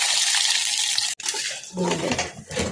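Poha (flattened rice) for upma is rinsed in a bowl under running water, a close, steady hiss of flowing water with brief breaks and sloshing as the flakes are swirled about.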